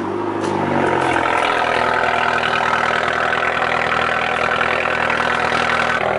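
Small car's engine started and left idling up close, a loud steady mechanical hum with no talk over it.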